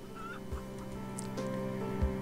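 A pair of Minecraft chickens cluck in the game, with soft, short clucks over a steady hum of game music, no speech.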